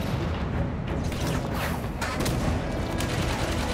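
Dense, continuous gunfire from Halo 5: Guardians, sustained bursts and booms layered over a steady loud din with no pauses.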